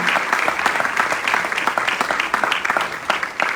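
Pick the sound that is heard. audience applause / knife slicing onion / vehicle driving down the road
audience applause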